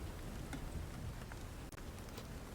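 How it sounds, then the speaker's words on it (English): Heavy rain pours down in a continuous, close hiss, with scattered sharper drops tapping through the steady downpour for the whole stretch. "you're instantly drenched as rain spills onto your clothes and your hair and your face."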